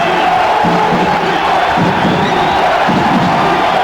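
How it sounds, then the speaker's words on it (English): A basketball arena crowd at a 1985 college game between the Bradley Braves and Marquette roars and cheers steadily for the full stretch, a dense, loud, continuous wall of voices with no break. "The crowd comes alive in the game."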